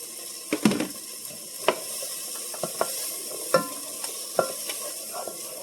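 Celery stirred in a pan as part of a ground beef pasta dish, giving a low steady sizzle with several distinct scraping knocks of the spoon against the pan, spaced irregularly and fairly close.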